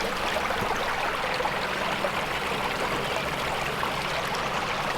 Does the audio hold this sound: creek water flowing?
yes